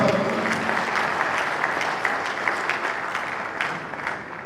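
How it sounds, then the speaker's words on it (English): Audience applause at a Bayelsa State 20th anniversary dinner, a room of guests clapping steadily with a few sharper claps standing out, easing off near the end. "Please clap for them."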